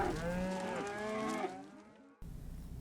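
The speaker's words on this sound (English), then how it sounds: "Cow," A cow gives one long, loud, close moo that slowly falls in pitch and fades, followed by a short quiet pause and low background noise.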